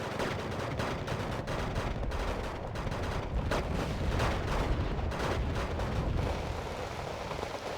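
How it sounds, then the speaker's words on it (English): Mortar and artillery fire in the war strategy game Wargame Red Dragon, a dense run of booming blasts and crackling gunfire over a constant heavy rumble, loud and continuous, with no talking. "And the mortars are definitely starting to help out now."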